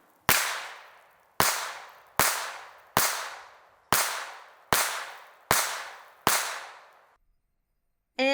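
A German Mauser C96 pistol fires eight sharp, loud reports at a steady pace, each with a ringing decay, followed by silence.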